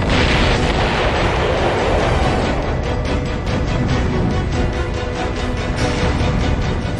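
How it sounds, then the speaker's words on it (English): Storage tank erupting at a tanker truck fire, a loud sustained roaring blast with heavy rumbling and crackling that fills the whole stretch without letting up. "a storage tank erupts, causing a second massive explosion."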